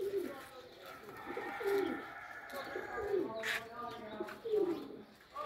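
Young pairs of Pakistani desi pigeons cooing on a rooftop, repeated soft throaty coos at a moderate distance with a few chirps mixed in, and faint talking in the background.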